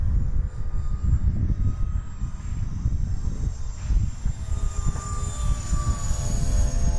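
An E-flite SR-71 Blackbird RC jet with twin 40mm electric ducted fans flies steadily overhead, its fans a loud continuous whine over a rumbling, wind-buffeted roar, with faint pitch shifts as it passes.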